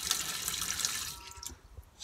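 Water runs from the tap into the sink of an LDV Maxus V80 camper van conversion, driven by an onboard water pump, a steady close splashing flow that eases off toward the end.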